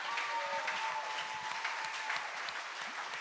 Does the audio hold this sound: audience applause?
yes